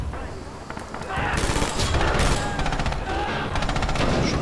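Rapid rifle and machine-gun fire in the WWII shooter Red Orchestra 2 crackles in dense bursts, a near, continuous volley with overlapping shots, while someone talks over it.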